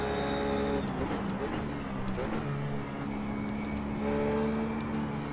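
A McLaren race car engine in the iRacing sim hums steadily with rising and falling harmonic whine as it shifts through gears, moderately loud and continuous beneath the driving.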